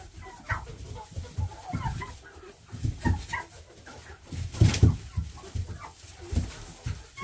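Turkeys being handled on a farm for weighing at three months old, giving agitated gobbles, clucks and flapping scuffles in uneven bursts at close range, with no talking over them.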